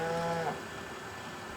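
Dairy cows in the Farming Simulator 25 video game at a GEA dairy feeder, a single drawn-out moo at the start that fades into quiet barn ambience.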